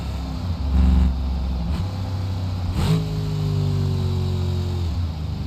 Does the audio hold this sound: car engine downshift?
yes